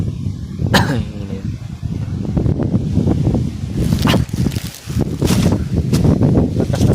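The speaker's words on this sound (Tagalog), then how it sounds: "Malamig ang hangin." Gusty cold wind buffets the microphone in heavy, rumbling bursts that rise and fall throughout, with faint rustling.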